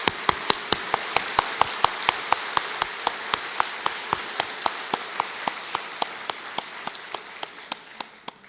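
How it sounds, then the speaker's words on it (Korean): Church congregation giving a rhythmic blessing clap for the children, a single steady beat of sharp unison claps, roughly three per second, continuing evenly and tapering slightly toward the end with no talking. "우리 꼬마 친구들 위해 축복의 박수를 한번 하겠습니다."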